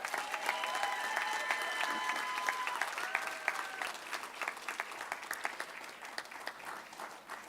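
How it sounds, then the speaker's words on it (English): Sustained audience applause at a school board employee appreciation meeting, steady clapping from a crowd that holds for several seconds and then thins out with scattered claps toward the end. "Let's give Michelle Cleveland another round of applause."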